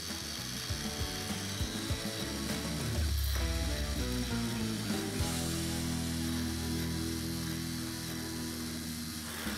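A kitchen mixer blends anchovies with garlic and a little oil into a paste, its motor whirring with a rough, grinding hum that rises in pitch and strains, loud and close with no voices.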